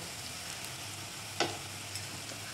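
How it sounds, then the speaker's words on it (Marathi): Onion frying in a pan for a cauliflower and carrot vegetable dish, with turmeric being added, makes a constant close sizzle, broken once by a brief sharp clink and a fainter tap later. "आता कांदा थोडासा गुलाबी रंगावर होता ना, त्याच्यात टाकूया आपण थोडीशी हळद"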